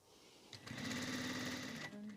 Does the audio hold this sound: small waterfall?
no